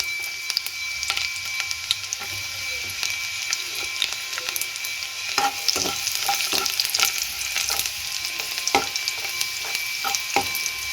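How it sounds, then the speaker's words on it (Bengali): Garlic frying in hot oil, a steady close sizzle with scattered crackles and pops and occasional stirring scrapes, running continuously without talk. "এর মধ্যে আমি তেলটাও গরম হয়ে গেছে, এর মধ্যে আমি প্রথমেই রসুনগুলো দিয়ে দিলাম।"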